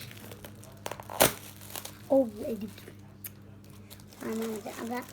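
A plastic bag is torn open and crinkled up close, with a sharp rip followed by scattered rustles and crinkles, while someone speaks in short bursts between them.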